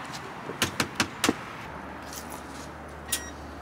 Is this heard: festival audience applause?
no